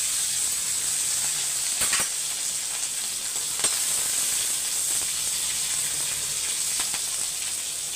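Mustard seeds, curry leaves and green chillies sizzle steadily in hot oil, a dense continuous crackling hiss with a few sharper pops, close and fairly loud throughout, no voices.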